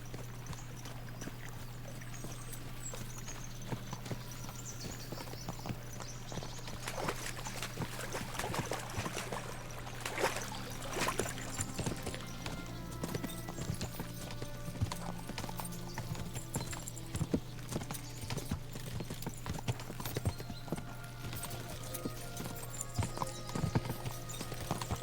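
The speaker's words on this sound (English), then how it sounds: "As soon as we cross the stream, we'll give the horses a gallop again." Horses' hooves clopping steadily in Kingdom Come Deliverance II, a continuous rhythmic beat with an occasional whinny, water sounds and a low steady hum beneath, no talk.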